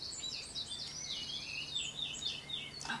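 Faint birds chirp and twitter continuously in the distance, thin high calls over a quiet background hum.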